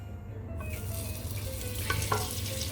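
Butter sizzling and frying as it melts in an ordinary pot while making Moroccan chicken with couscous, a steady crackling hiss throughout with a few brief clinks near the end.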